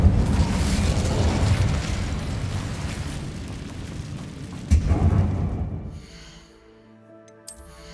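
A burst of the Incendio fire spell in Hogwarts Legacy roars as a loud, sustained whooshing blast with a second flare midway, then fades into quieter magical chimes.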